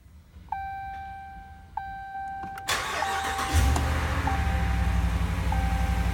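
A 2017 Ram 1500 SLT quad cab pickup's engine cranks and catches after a few door-chime beeps, then settles into a loud, steady idle close by.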